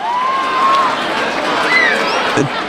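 Football crowd cheering at Hednesford Town v Gainsborough Trinity in the FA Cup as a shot flies over the bar, a loud sustained roar of voices with rising whistles, under commentary.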